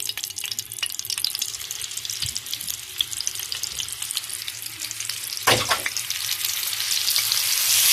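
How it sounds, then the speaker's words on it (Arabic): A paste of garlic, chili and spinach fries in ghee and oil, giving a bright, close, steady sizzle with light stirring, one sharp spatter burst midway and the hiss growing louder toward the end. "حطيت نص معلقه سمنه ومعلقتين زيت، ماشي، عشان نحمر الدقه بتاعتها"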